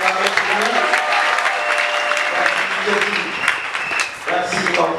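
A church congregation gives loud, sustained applause for about five seconds, with voices mixed into the clapping.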